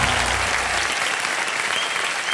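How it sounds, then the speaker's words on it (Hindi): Loud, dense applause from a game show studio audience, continuous clapping filling the whole moment with no pauses. "अब तालियां।"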